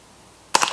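A single suppressed shot from a Spikes Brown Recluse integrally suppressed 9mm carbine with subsonic ammunition gives one sharp, clipped snap with a brief rattling tail after a moment of quiet.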